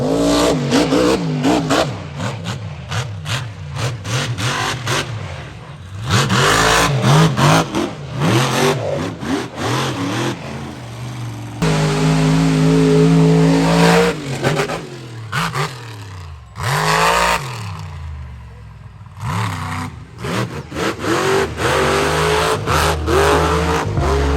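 A drifting car's engine revs hard and repeatedly at the Freedom Factory, rising and falling in loud bursts, with a long sustained high-rev stretch midway, close and continuous.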